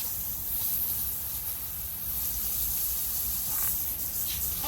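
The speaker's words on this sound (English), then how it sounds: "So you can just spray them again so that the dirt comes off." A steady, close hiss of water spraying continuously, with no pauses and no voices.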